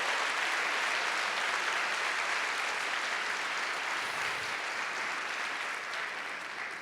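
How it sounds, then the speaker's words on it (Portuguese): A church congregation applauds in praise, a dense, continuous wash of clapping from many hands that holds steady and fades slightly toward the end, with no voices standing out. "Se eu fosse você, aplaudir o Senhor."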